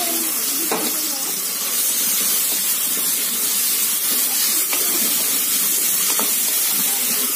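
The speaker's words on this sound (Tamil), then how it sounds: "வெங்காயம் நல்லா வதங்கட்டும்." Onions sautéing in a pan with mint and coriander leaves for mushroom biryani, a loud, constant sizzling hiss broken by occasional faint scrapes of stirring.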